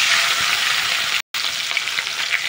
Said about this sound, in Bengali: তেলটা দেখো গরম হয়ে গেছে। এবার দিয়ে দেবো মাছের মাথা।